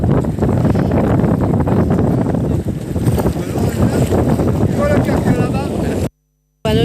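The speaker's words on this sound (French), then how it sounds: "Alors nous avons beaucoup de vent" Strong outdoor wind buffets the microphone in a loud, continuous rumbling roar beside a salt-marsh lagoon, with someone talking faintly under the gusts before a brief cut to silence.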